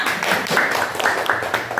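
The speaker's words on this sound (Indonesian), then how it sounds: "Tepuk tangan dulu semuanya" Students in a classroom clap together in a brief, steady round of applause, close and moderately loud, with a few voices mixed in.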